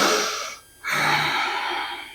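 A deep breath during a core activation exercise, with a long loud inhale-like rush, a brief pause, then a strong sustained exhale close to the listener.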